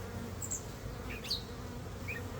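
Honey bees buzz around an open hive during a spring mite check, a steady low hum with a few individual bees droning close by, no talking.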